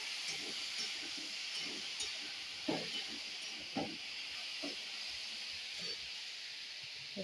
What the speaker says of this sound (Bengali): এই যে আলু ছোট ছোট করে কেটে রেখেছি এই সাইজে। তেলটা গরম হয়ে গেছে, দিয়ে দেবো।